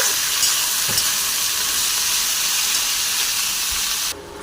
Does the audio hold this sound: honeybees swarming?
no